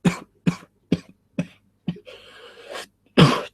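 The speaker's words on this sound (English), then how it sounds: "if I do cough every now and then, I do apologize" Repeated coughing from a man recovering from an illness, six or so sharp bursts in a steady rhythm, close and fairly loud, with a rougher throaty cough in the middle, no talking.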